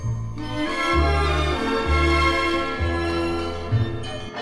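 Deep, resonant Orthodox church bells ring in a steady sequence of heavy strikes at a Moscow Easter bell festival, each tone sustaining and overlapping the next, loud and close.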